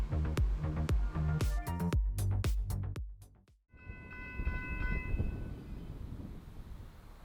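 A Brightline passenger train rounds a curve and arrives, sounding a loud rhythmic run of horn blasts, then a brief lull before a rumbling pass with squealing wheels on the track.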